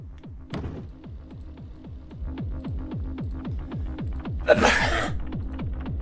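A single sharp sneeze bursts out near the close, over a steady, rhythmic throbbing engine drone from the Assetto Corsa online driving game.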